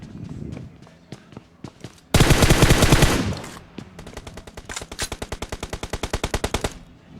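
Gunfire in PUBG on the Erangel map: light footsteps first, then a dense, loud burst of rapid automatic fire, followed by a longer run of evenly spaced shots that grow louder.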